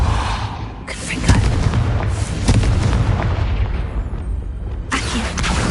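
Confringo blasting spell in the video game Hogwarts Legacy, heavy booming blasts with rumbling low end, a few loud bursts in a row, one fading out before another strikes near the end.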